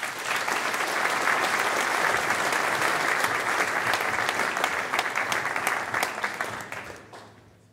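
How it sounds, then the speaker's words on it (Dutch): An awards-ceremony audience at the FEBE Elements Awards gives a long, dense round of applause, loud and sustained before tapering off sharply near the end. "een geweldig groot applaus"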